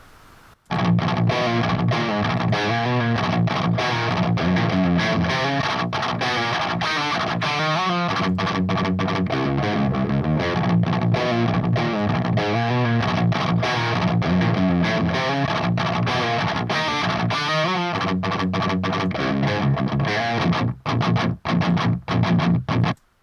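Heavily distorted electric guitar through a Bulldog Super Lead amp sim with a booster plays chugging metal riffs and sustained chords, loud and continuous, with a few choppy stops near the end.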